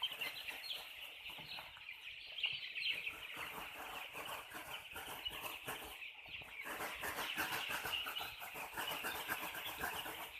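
Chickens clucking steadily at a farm, a continuous chorus of close, fairly faint calls with occasional wing flutters, no voices.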